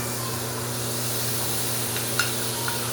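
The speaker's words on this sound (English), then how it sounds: "I do let the butter burn a little bit" Butter with garlic sizzles and browns in a pan, a steady dense hiss with a few faint pops, close and continuous with no talking.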